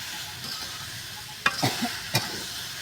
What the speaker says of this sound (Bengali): আমার রসুনগুলো দেখানো এই যে লাল হয়ে গেছে এখন আমি এই যে আস্তে আস্তে দিয়ে দিতে একটু নাড়াচাড়া করে নিই